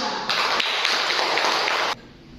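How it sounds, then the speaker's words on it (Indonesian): A classroom of pupils bursts into applause for group 2, a dense, even clatter of clapping that lasts under two seconds, then stops abruptly. "Tepuk tangan dulu untuk kelompok 2."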